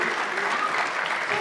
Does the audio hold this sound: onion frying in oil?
no